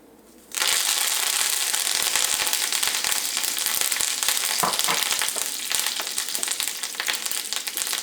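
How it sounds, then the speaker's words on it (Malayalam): Loud, steady sizzling of curry leaves dropped into hot oil with mustard seeds, starting abruptly after a brief quiet moment and crackling continuously with a few sharper pops. "ഇനി ഇതിലേക്ക് കറിവേപ്പില ചേർക്കുക."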